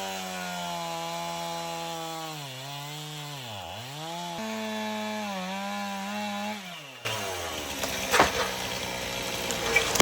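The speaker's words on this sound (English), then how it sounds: "We will just move the chainsaw and start cutting." Chainsaw cutting into a tree trunk, its engine droning steadily close by with pitch dips under load, then giving way to crackling, splintering wood as the cut opens.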